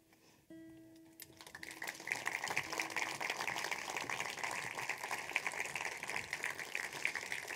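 Audience applause at a county recognition ceremony in Saaremaa as a musician is welcomed onto the stage, a steady dense clapping that swells after a brief tonal note and holds evenly for several seconds.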